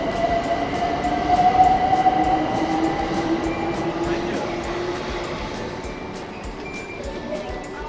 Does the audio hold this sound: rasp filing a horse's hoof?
no